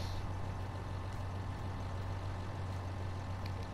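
A Claas Xerion 3800 Trac VC tractor in Farming Simulator 19 runs with a steady, low engine hum, droning evenly and faintly throughout.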